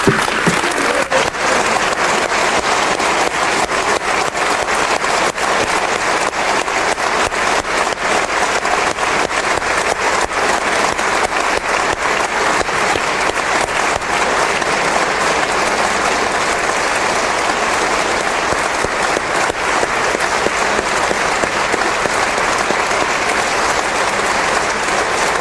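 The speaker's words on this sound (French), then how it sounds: "Ce tonnerre d'applaudissements" Loud, sustained applause from a forum audience, a dense roar of many hands clapping continuously like heavy rain, with no letup throughout.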